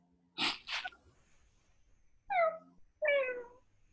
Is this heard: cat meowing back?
yes